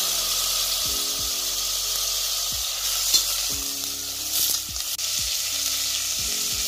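Tomatoes frying in hot oil for mutton kulambu, a steady bright sizzle filling the clip, with occasional scrapes and clacks of a stirring spoon, close up and without speech.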